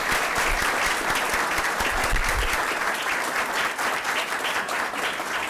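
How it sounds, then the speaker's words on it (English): Sustained applause from an audience at a school board of education meeting, honoring an academic scholar; steady, dense clapping fills the whole stretch at close range without pause. "Let's give him another round of applause, please."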